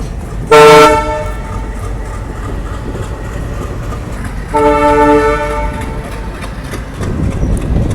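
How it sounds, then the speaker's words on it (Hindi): An express train running from Goa to Delhi gathers speed on the rails, its horn blasting loudly once near the start and again more softly midway over a constant rumble of wheels and carriages. "अचानक से ट्रेन ने स्पीड पकड़ लिया"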